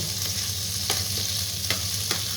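Pork stir-fries in a pan with red curry paste, giving a loud, steady close-up sizzle broken by a few scraping stirs of the spatula.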